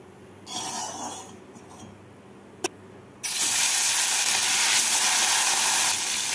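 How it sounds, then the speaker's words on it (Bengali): Fish frying in hot mustard oil, a loud, dense sizzle that bursts in suddenly and holds steady, preceded by a quieter hiss and one sharp click. "তেলটাকে গরম করে নিয়ে মাছগুলোকে ভেজে নেব।"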